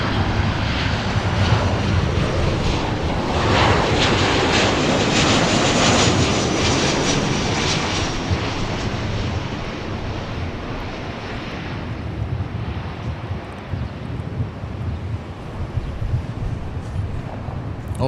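Two Airbus A380 airliners come in to land at LAX, one British Airways and one Emirates, making a loud, steady roar of jet engines that swells and then slowly fades with no one speaking.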